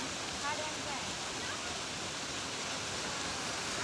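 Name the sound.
flowing water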